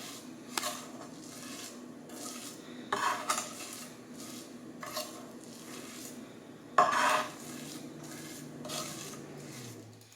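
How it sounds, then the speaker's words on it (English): A knife is pressed back and forth over garlic and salt on a cutting board, giving a series of quiet scraping strokes and a few sharper taps against a faint background hiss. "Pressing that knife up against the garlic, back and forth, until you get the consistency"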